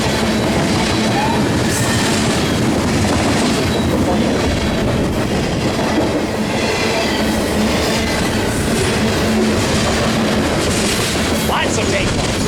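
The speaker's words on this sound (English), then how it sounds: "I think I ran this train with 68 cars." Freight cars behind CSX and Norfolk Southern locomotives keep clattering past at Fullerton, a loud, unbroken roar of rolling wheels close at hand, with faint squeals now and then.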